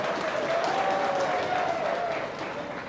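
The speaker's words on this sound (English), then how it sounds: "please can I ask you to give everyone from the Senatum a big round of applause for their work and effort" Guests at a Diwali celebration with the mayor applaud the Senatum team, a soft, even wash of crowd clapping that tapers slightly toward the end.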